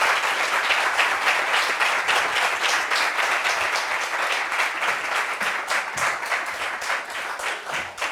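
A large television studio audience claps steadily and enthusiastically, a dense, sustained wash of applause from start to finish.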